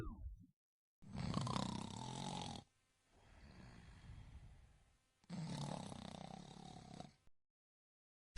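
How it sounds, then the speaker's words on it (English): A sleeping person snores with a partially blocked airway: two long, loud, rasping snores close by, separated by a quieter breath. "A sound made while sleeping, due to blocked airways."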